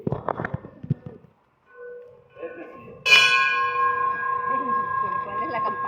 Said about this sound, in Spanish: ¿Cuál es la campana esa?